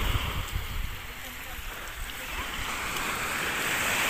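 Surf washes and rolls continuously, mixed with blustery wind buffeting the microphone, and the sea sounds swell slightly louder toward the end.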